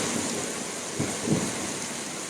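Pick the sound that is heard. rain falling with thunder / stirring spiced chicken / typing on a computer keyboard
rain falling with thunder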